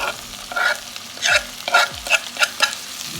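Onion, scallion, pepper and carrot are stirred in a pot over a low sizzle. Close scraping strokes of a spoon come in about half a dozen quick bursts, with a couple of dull knocks, and there is no talk.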